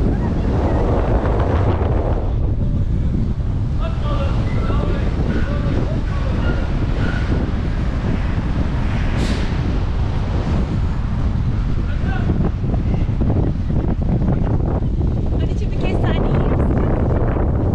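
Strong wind buffets the microphone aboard a ferry crossing the water, a constant loud roar with low rumbling throughout and people talking intermittently beneath it.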